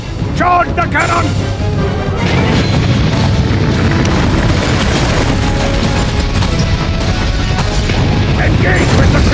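In the Wii game Godzilla: Unleashed, a crystal cannon fires at Godzilla amid a loud, continuous roar of booms, blasts and crashing battle noise, with shouted voices over the top.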